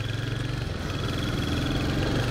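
A 2022 Royal Enfield Hunter 350 Metro Dapper Ash motorcycle engine thrums steadily and close while being ridden, a continuous low throbbing drone with no talk over it.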